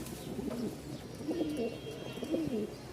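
A young male Rajshahi Giribaz pigeon coos up close in several soft, rolling phrases, one after another, over a low background hum.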